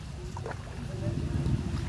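A boat travelling on the Dawki river in Meghalaya gives a short, steady low rumble with water wash that grows slightly louder toward the end.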